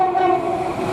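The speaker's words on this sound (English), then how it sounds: "This is going to be the last train of the day" A train at Milton Keynes Central railway station sounds a loud, steady horn tone over a rumbling engine, close by and brief.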